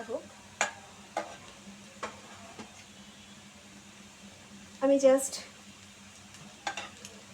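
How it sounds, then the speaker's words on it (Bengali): Chicken tikka kabab pieces fry quietly in a pan with a faint, steady sizzle, broken by sharp utensil taps and stirring clatters, with a brief spoken phrase midway. "আর একটু ভাজা হোক।"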